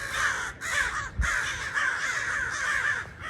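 Crows caw repeatedly and loudly close by, harsh calls overlapping in a continuous squawking chorus with a brief thump midway.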